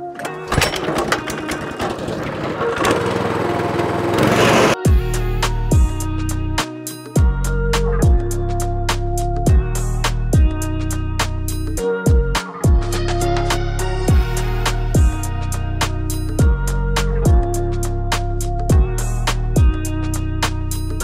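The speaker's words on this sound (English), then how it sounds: "So I'll grab the cylinder mower and we'll start getting ready for a cut." A cylinder lawn mower cuts a striped lawn in late autumn. A loud mechanical whir comes close by and runs steadily, with regular rhythmic pulses repeating about every second, after a burst of rougher noise at the start.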